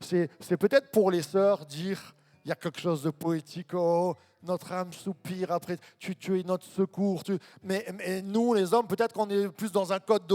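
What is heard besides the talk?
None of the usual background noises is heard.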